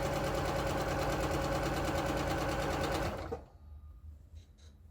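Sewing machine running steadily for a 1/4 inch straight stitch, a loud, dense mechanical whir with a fast rhythmic knock that stops abruptly, followed by faint handling noises.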